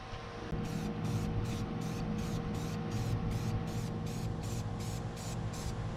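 Silver spray paint hissing from an aerosol can onto a 3D-printed canister, a series of about a dozen short, evenly spaced bursts, close and loud over a steady background hum.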